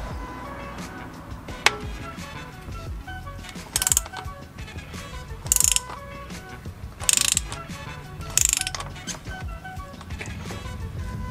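A ratchet socket turns an oil filter wrench to loosen the filter during a car oil change, clicking steadily and close up, with four louder bursts of fast ratcheting spaced a couple of seconds apart.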